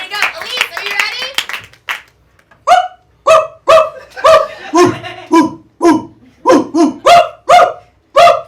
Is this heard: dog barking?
yes